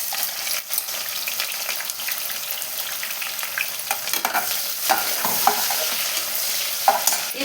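Chopped onions frying in a pan with a little salt for mutton dum biryani, a steady close sizzle with occasional stirring scrapes throughout, no voices.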